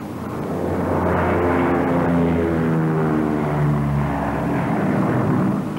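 Piston engines of a Lockheed P-38 Lightning twin-engine fighter droning steadily in flight while circling to land, a loud continuous throbbing hum with layered harmonics that swell slightly and waver, no voices over it.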